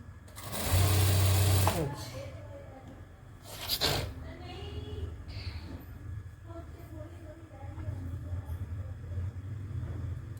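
A sewing machine stitches the lining of a salwar with one loud, close whirring run, then a brief second burst, while a person talks throughout.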